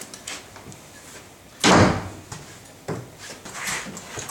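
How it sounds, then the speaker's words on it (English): An interior door with a newly fitted latch and handle is opened and shut, giving one loud close thud followed by a few softer latch clicks and knocks nearby. "we can now test our door."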